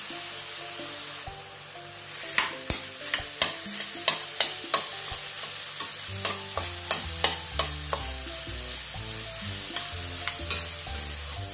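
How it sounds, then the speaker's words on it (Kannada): Grated, pre-cooked carrot sizzles in ghee in a pan for halwa, while a spoon scrapes and stirs it in a quick string of sharp knocks. Continuous frying hiss runs beneath, with soft music in the background. "ಒಂದು 7 ನಿಮಿಷ ನೀವು ಈ ಥರ ಫ್ರೈ ಮಾಡಿ ತುಪ್ಪದಲ್ಲಿ."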